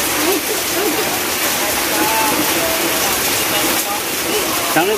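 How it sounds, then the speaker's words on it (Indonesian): Heavy rain pours down over a rural village, a dense, steady hiss that fills the whole stretch evenly with no pauses, with faint voices and small sounds barely audible beneath it. "Siang hari sudah hujan lebat."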